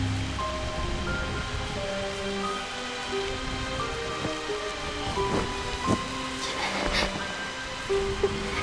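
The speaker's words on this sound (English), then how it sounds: "The rain." Steady heavy rain pours down in the game Reverse: 1999, with low thunder rumbling faintly underneath and a few sharper crackles toward the end, no voices.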